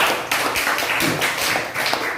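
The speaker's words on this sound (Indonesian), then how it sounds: "tepuk tangan buat kelompok" Students in a classroom clapping for a group, a short burst of hand claps in uneven rhythm, close and fairly loud, lasting about two seconds.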